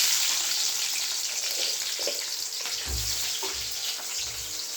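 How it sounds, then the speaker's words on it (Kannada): Onions dropping into hot oil in a pan, a steady close sizzle and hiss running throughout with a few soft low bumps as they settle. "ಫಸ್ಟು ಆಯಿಲ್ ಹಾಕ್ಕೋಬೇಕು. ಆನಿಯನ್ ನೀಟಾಗಿದೆ. ಸೊ ನಾವು ಆನಿಯನ್ ಹಾಕ್ಕೊಬೇಕು."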